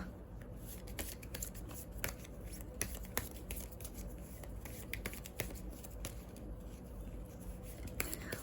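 Oracle cards being shuffled by hand, with quiet, rapid papery flicks and taps repeating throughout, close up and soft, with no talk.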